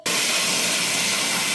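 Water rushing steadily onto chickpeas being rinsed, a loud, even hiss that starts abruptly and runs without pause, no voices.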